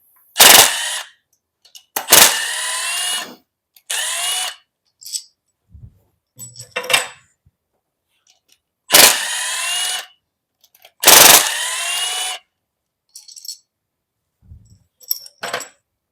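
Engine rocker arms are removed with hand tools, producing sharp metallic clanks and clicks in irregular bursts, close and loud, separated by silences and lighter taps.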